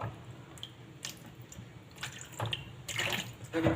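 Water splashes and trickles while a hand scrubs a soot-blackened gas stove burner frame, a soft, uneven running-water sound at close range that grows busier and louder near the end.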